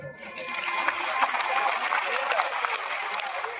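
Clapping from a large audience at a Hindu religious discourse during the Maha Kumbh in Prayagraj rises into bursts of dense applause, fairly close and loud, with a crowd murmur underneath.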